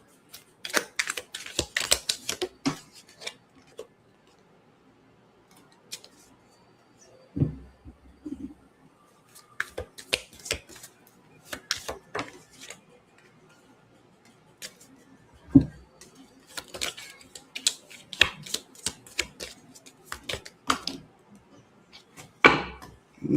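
Small round tarot card deck being shuffled by hand in humid conditions, a series of crisp riffling and tapping bursts separated by short pauses, close and fairly quiet with no talking.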